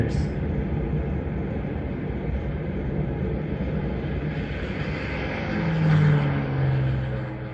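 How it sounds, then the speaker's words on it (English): Propeller warplanes launching from Japanese aircraft carriers under Nagumo turned into the wind, north of Oahu: a steady broadband engine drone with a louder rising surge near the end, and faint voices underneath. "Nagumo turned his carriers into the wind and launched his planes."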